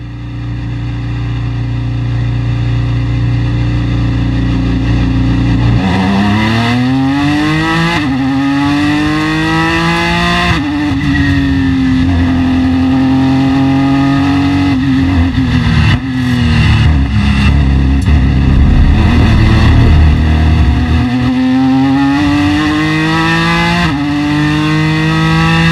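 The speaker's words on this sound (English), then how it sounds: "As I accelerate away from the pit box," A Ford GT race car pulls away from the pit box at Le Mans, its engine droning steadily then rising through rapid upshifts, pitch sweeping up and dropping repeatedly, loud and close from inside the car.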